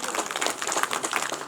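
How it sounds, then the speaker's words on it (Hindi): An audience at a Maa Chandika temple ceremony with a bhandara feast in Uttarakhand breaks into a brief burst of dense, loud, close clapping. "आप बहुत जोरदार तालियों से स्वागत कीजिए"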